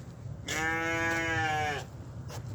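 A single goat lets out one clear, wavering bleat lasting about a second, close and moderately loud, against quiet farm background.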